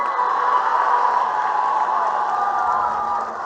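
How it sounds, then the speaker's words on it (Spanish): Crowd applauding and cheering for president Claudia Sheinbaum at a public event in Guadalupe Victoria, Durango, a dense sustained roar of clapping and voices that eases off slightly at the end. "Quiero pedirles que le brindemos un fuerte aplauso a nuestra presidenta Claudia Sheinbaum Pardo"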